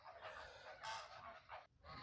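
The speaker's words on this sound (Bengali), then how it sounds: "রাজহাঁস দেখতে পেলাম, রাজহাঁসও আছে।" Geese honk in short bursts at a zoo in Baghdad, a few loud nasal calls close by over a steady outdoor hiss, with no speech.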